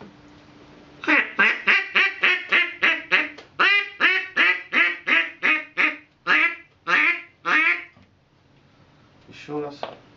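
A handheld duck call with water poured inside, blown to imitate a duck, gives a long series of loud, evenly paced quacks up close. After a short pause a fainter quack follows.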